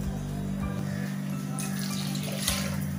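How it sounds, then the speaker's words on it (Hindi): Water is poured into a cooking pot of curry with vegetables in a home kitchen, a continuous trickle over a low steady hum, with brief louder splashes about halfway through and near the end. "और थोड़ा सा पानी डाल लूंगी"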